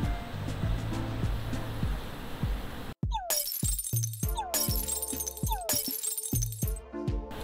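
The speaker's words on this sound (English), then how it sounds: "our glass just crumbles down regardless of where our bullets collided with it" Glass shattering in a Unity game recreation of Counter-Strike 2-style glass, hit by bullets: sharp crashing breaks repeat about every second after a low ambient hum, bright tinkling debris between impacts.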